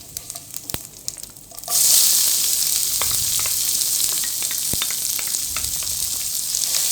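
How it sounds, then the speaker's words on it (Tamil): Chopped onions hit hot oil in a pan for egg podimas, and the sizzle jumps suddenly loud and stays as a steady close frying hiss, with scattered spoon taps. "இந்த ஸ்டேஜில் நம்ம ஏற்கனவே சின்னதாக கட் பண்ணி வச்சுருக்கிற வெங்காயத்தை வந்து இதோடு சேர்த்து நம்ம போட்டு வதக்க ஆரம்பிக்கலாம்"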